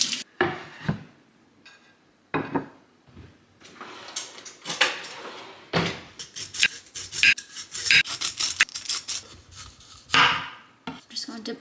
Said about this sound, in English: I'm just going to peel off some of these rougher parts.